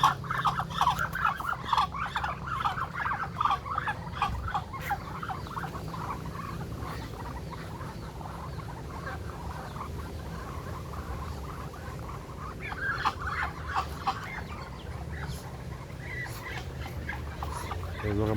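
Native chickens clucking and calling in a busy, continuous chorus at close range in a coop, with small rustling and pecking sounds underneath.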